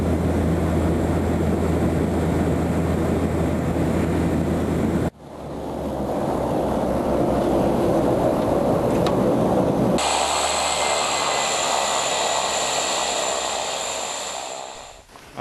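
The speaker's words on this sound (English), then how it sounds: "After a rough landing, we unloaded, and Bjarki told us he would not land here" Small plane landing on rough ice in Greenland: loud, continuous roar of engine and wind buffeting, cutting abruptly between segments, ending in a higher whining drone as the aircraft rolls, with no voices.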